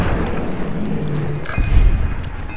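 Gunfire in Fallout New Vegas, with a sharp boom near the middle over a continuous rumbling game background. A second thump follows shortly after.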